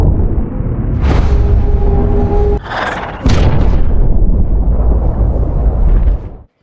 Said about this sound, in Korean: 폭발음을 감지한 펜타곤